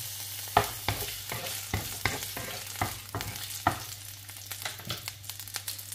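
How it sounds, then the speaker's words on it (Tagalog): Garlic hits hot olive oil in a sauté pan and sizzles steadily, with repeated sharp scrapes and clicks of a utensil stirring it at close range and no voices. "Ayan, mainit na yung ating mantika. Hihulog na natin itong ating bawang."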